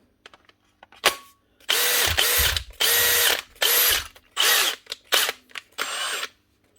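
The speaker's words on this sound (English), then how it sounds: "Next up is a Makita cordless drill. This one's the DHP485, wee small brushless machine." Makita DHP485 small cordless brushless drill with a faulty chuck missing a jaw, run in a series of short bursts of high whirring with clicks and rattles between, close and loud.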